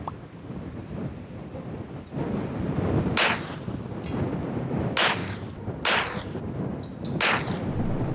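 A budget $100 pistol firing at a target one mile away in a strong crosswind: four sharp, loud cracks spaced roughly a second or two apart, each followed by a brief echo over steady outdoor wind.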